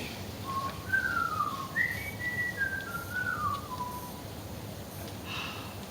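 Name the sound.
man whistling a merry folk tune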